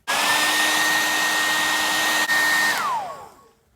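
A heat gun or hair dryer blows steadily at close range while warming the head of a Mattel WWE action figure, a loud even whine with a brief dip near the end before it switches off and winds down.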